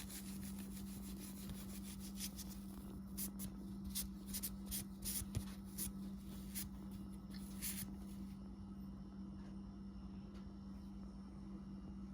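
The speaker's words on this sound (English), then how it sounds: "I'm just gonna rub it down here with a little Scotch-Brite pad" A Scotch-Brite pad scrubs a furnace flame sensor in quick, rhythmic rubbing strokes. The scrubbing is faint but close, over a steady low hum, and stops after about eight seconds.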